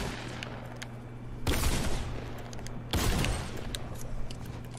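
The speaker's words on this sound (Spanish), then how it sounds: "¿Quién me dispara, güey?" Fortnite gunfire in a match, two loud bursts of shots a second and a half apart over a steady background hum, with faint scattered pops in between and no talk.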